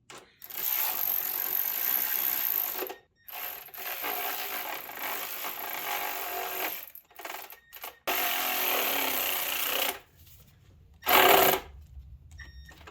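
A failing ratchet wrench clicks rapidly in several bursts separated by short pauses, close and fairly quiet, with no talking, during starter motor replacement on a Lexus LS400.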